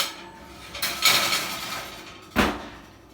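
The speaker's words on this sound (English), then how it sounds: "let's throw that pizza stone in the oven" A pizza stone goes into a home kitchen oven: a scrape and clatter of the heavy stone sliding onto the rack, then a sharp thump of the oven door closing, close and brief.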